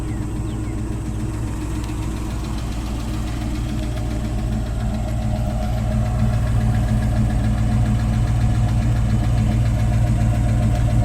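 A 1967 Ford Mustang coupe idling through its GT exhaust and tailpipes, a loud, steady low rumble with an even pulsing beat that grows slightly fuller partway through, with no talking.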